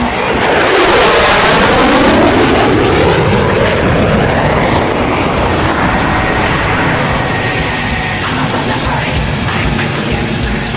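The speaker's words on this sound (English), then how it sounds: "Ladies and gentlemen, Ben and Burke and the United States Navy's F-14 Tomcat!" A US Navy F-14 Tomcat jet at a twilight airshow, loud and close, its roar sweeping past with a falling pitch and then a sustained thundering rumble.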